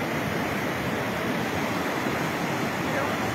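Floodwater rushing through Condesuyos, a steady broadband roar of flowing water with no break, moderately loud.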